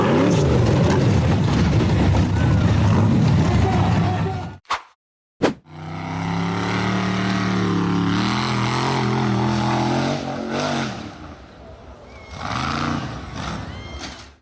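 A green off-road buggy's engine roars hard as it accelerates up a dirt hill, loud and sustained, cutting out briefly before revving up again with fluctuating power.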